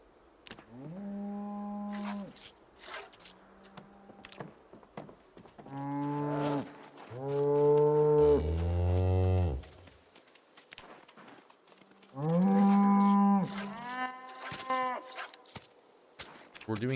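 Cows in Project Zomboid moo repeatedly, with several long, loud, drawn-out calls coming in bursts separated by quieter pauses. Faint movement sounds fill the gaps.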